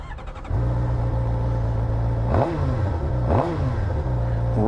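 A 2023 Suzuki GSX-R600 sport bike idles close by, then gets two quick, sharp throttle blips that rev up and fall back, loud and near.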